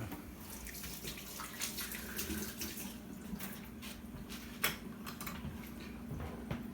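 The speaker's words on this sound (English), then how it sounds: "Let me wash my hands" Tap water runs steadily into a sink while hands are washed in a home kitchen, a continuous soft splashing hiss with a few small clinks and knocks over it.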